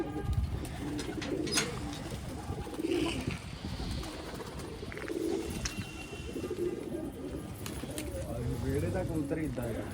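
Pigeons coo in low, soft, repeated phrases close by, with people talking over them throughout.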